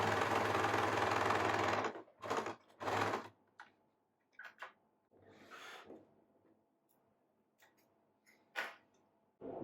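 A sewing machine stitches the shoulder seam of a lined churidar with a close, rapid whirr for about two seconds, then a few shorter stitching bursts separated by quiet handling sounds.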